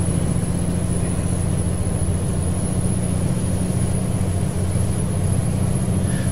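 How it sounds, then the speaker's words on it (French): Inside the cab of a truck hauling a large tractor, a low, steady engine drone runs unbroken with a faint high whine above it and no talking. "c'est pour vous laisser apprécier aussi le bruit du camion"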